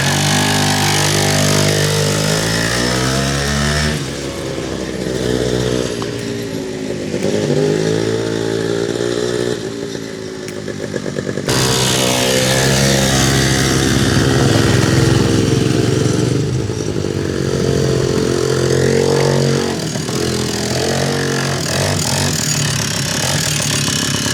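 A 1968 Rokon two-wheel-drive Trail Breaker all-terrain motorcycle runs close by, its engine holding a loud, steady buzzing drone with rising and falling revs throughout.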